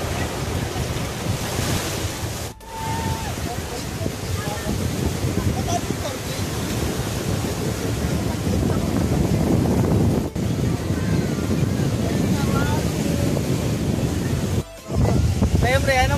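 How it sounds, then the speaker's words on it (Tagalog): Ocean surf rolling continuously onto the shore of San Fabian bay in Pangasinan, loud and steady with heavy wind buffeting the microphone, while people talk over it throughout. "we're enjoying the, what do you call that? The waves."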